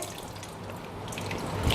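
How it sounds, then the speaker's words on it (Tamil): Tamarind water is poured into a pot of bitter gourd sambar near the end of cooking, making a soft, steady liquid trickle and splash that swells slightly toward the end. "இப்போ கடைசியில் நம்ம இந்த புளித்தண்ணி ஊற்றுறோங்க"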